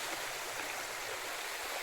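A Konkan river swollen by the first rain of the season rushes past in a steady, full roar with no break and no voices.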